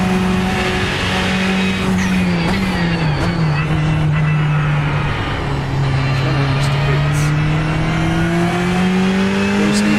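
A race car engine drones loudly and continuously in the iRacing simulator, its pitch dipping and rising as it slows and accelerates again, with tire noise and a person talking over it.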